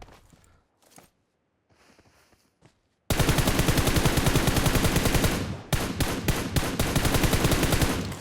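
Sustained automatic gunfire in a battle royale shooter, loud and close, erupting after a few quiet seconds of faint sounds and continuing in rapid bursts with a brief break.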